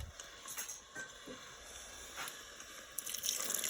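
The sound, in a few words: water being added to risotto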